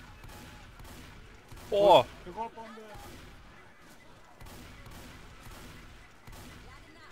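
Gunfire in the Left 4 Dead 2 video game comes as a quick burst of sharp shots with a loud crack in the middle, under steady game ambience and a short exclamation from a player.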